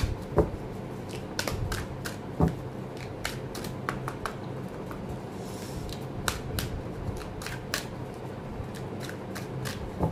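Tarot cards shuffled and drawn by hand, a continuous close riffle of papery flicks and snaps with sharper card slaps scattered throughout, over a low steady background hum.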